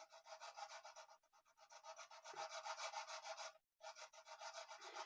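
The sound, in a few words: Music Nomad .046 nut file filing a plastic guitar nut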